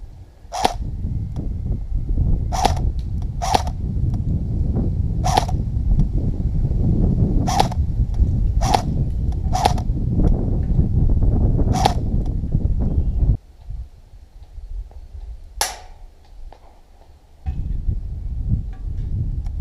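Sharp, isolated pops from an Umarex Tavor TAR-21 air rifle firing at a metal target about 260 feet away, around a dozen shots spaced a second or two apart over steady outdoor background noise.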